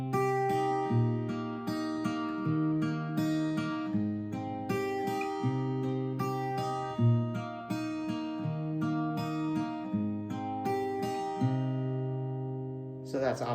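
Acoustic guitar fingerpicked through the chords of the song, notes walking up and back down the strings in an even, clear arpeggio; close and solo, with no talking.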